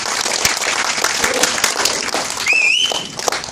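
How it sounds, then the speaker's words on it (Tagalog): An audience breaks into loud, sustained applause at a hormone-cream training session, with a sharp whistle cutting through the clapping near the end. "pasalubungan ulit natin ang panibagong, malakas na palakpak"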